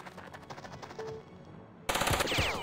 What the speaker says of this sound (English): It's all elite shooting at us.